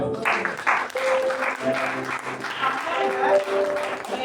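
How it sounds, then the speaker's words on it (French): A church congregation applauding during a sermon, a dense, steady wash of clapping mixed with voices calling out throughout. "acclame Jésus."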